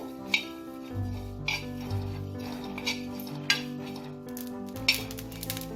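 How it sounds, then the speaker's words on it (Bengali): Dry spices, including fennel seeds, are dry-roasted in a hot pan, a utensil clinking against metal every second or so, with soft music playing underneath. "এটাকে খুব ভালো করে ড্রাই রোস্ট করে নেব।"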